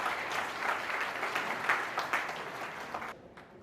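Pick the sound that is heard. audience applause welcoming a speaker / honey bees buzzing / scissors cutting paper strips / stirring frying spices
audience applause welcoming a speaker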